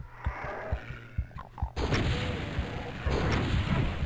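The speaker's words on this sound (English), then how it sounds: "They're revenants. They have homing missiles." Homing missiles from revenants in Doom Hideous Destructor thud in a quick series of impacts, then erupt into a loud sustained explosive roar with a second surge near the end.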